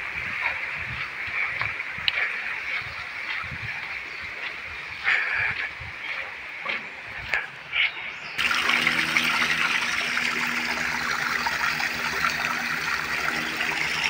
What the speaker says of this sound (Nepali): कलल पानी